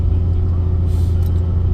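A vehicle cruises steadily down a rural road, its engine and tyre rumble a loud, constant low drone with faint wind noise over it.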